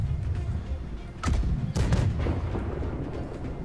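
Ship cannons fire in the Blackwake naval battle game, with two heavy booms in quick succession over a constant rumbling background of sea and wind.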